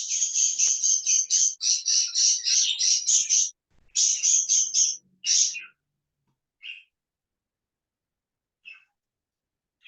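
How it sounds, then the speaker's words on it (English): Pet birds in the house call in rapid, shrill, repeated chirping bursts, loud and dense at first, then thinning to a few isolated chirps, with no other sounds. "They're my birds."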